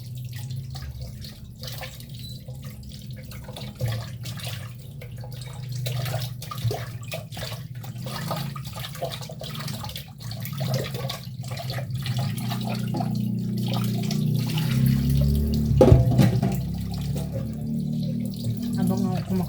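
Tap water runs steadily while ingredients for sinigang are washed, a continuous close splashing and trickling into a sink that grows fuller and louder toward the end.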